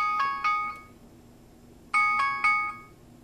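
Find-watch ringtone from a HAMSWAN U18 smartwatch: two bursts of bright triple chimes a second or so apart over a faint steady hum, close and clear with no talk.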